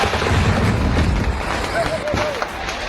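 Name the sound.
loud fireworks explosion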